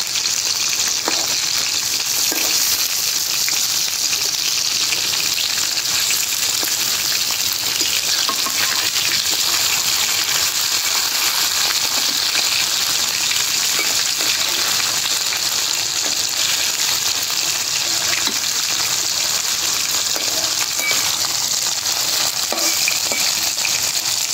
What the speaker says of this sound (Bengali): এখন জাল কমাই দিচ্ছি, আস্তে আস্তে জালে ভাজি।